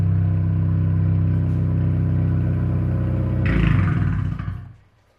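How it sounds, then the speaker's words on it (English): Honda 10th-gen Civic Si engine with a catless front pipe and downpipe exhaust, loud steady idle rumble that swells into a brief rev with rasp and crackle near the end, then cuts off to quiet. "tell me what you all think about that freaking catless front pipe downpipe combo. I think it sounds amazing"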